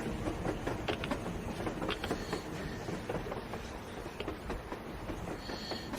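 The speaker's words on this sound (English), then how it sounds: "That is a train. A damn train on the surface." A train rumbles past with a steady, dense roar and scattered rattling clicks, continuous throughout at moderate loudness, in the video game Metro Exodus.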